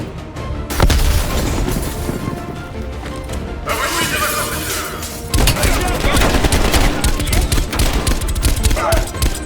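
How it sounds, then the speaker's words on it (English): Loud grenade blasts and heavy bursts of rifle and machine-gun fire in a Call of Duty Black Ops Cold War campaign battle, with booming impacts at roughly one-second and five-second marks over continuous close gunfire. "Incoming grenade!"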